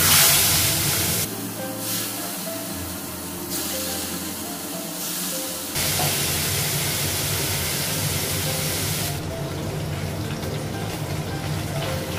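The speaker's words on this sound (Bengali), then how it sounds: "মাছ ভাজা" Fish frying in hot oil in a home kitchen, giving a steady loud sizzling hiss that runs through the whole stretch with small shifts in intensity and no talking.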